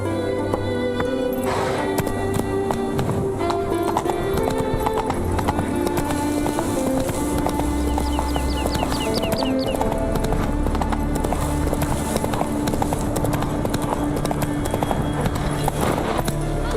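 Horse hooves clip-clop at a galloping pace in The Witcher 3, a fast steady rhythm under game music, with a brief neigh.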